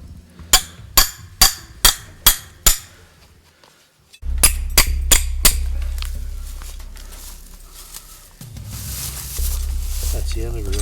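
Hammer and chisel chip a whitetail deer shed antler out of ice outdoors: six quick, sharp, ringing strikes in an even rhythm, a brief pause, then four more blows over a low rumbling background.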